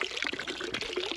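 Water is poured out of buckets at a farm's animal houses in early winter flurries, a quiet splashing trickle that rises and falls over about a second.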